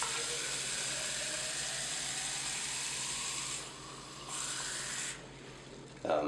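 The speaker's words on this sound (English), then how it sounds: "And then just fill the rest up with water." Tap water pours into a film developing cylinder already holding a splash of hypo wash, making a steady, close rushing hiss that briefly softens and changes tone near the end.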